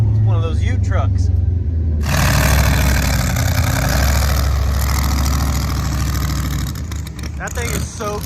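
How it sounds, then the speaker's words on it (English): A ute truck at a packed dragway sits idling with a loud, deep engine rumble up close, alongside other engine noise, while people talk over it. "It's one of those ute trucks."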